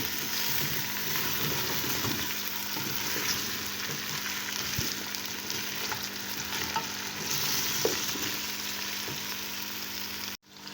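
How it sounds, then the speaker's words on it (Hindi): Beef trotters frying in oil on a slow flame, a steady, close, even sizzle with occasional soft stirring scrapes and a few light ticks, ending abruptly. "अब हम इसको बिल्कुल स्लो फ्लेम पर फ्राई करेंगे।"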